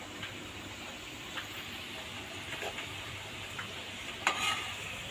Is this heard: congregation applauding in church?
no